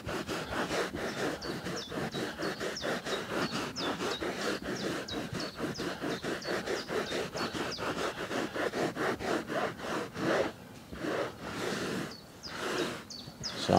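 Brisk scrubbing of caravan carpet pile with a brush, a rapid, steady back-and-forth scratching rhythm close up, briefly pausing near the end before resuming, with no talking.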